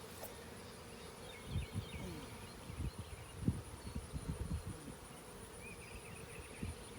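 Bees buzz softly around beehive boxes outdoors, faint intermittent drones passing near and away amid a quiet insect hum.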